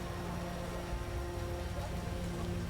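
Steady rain falls in an outdoor city street scene near Animoid Row, a constant moderate wash of noise with no distinct drops or thunder, heard alone without voices.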